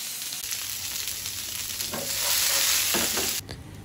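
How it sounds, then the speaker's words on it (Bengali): Tilapia fish fries in a pan with a steady crackling sizzle that swells briefly as it is stirred or turned, close and alone without talk. "এর মধ্যে আমার মাছটা সুন্দর করে ভাজা ভাজা হয়ে গিয়েছে।"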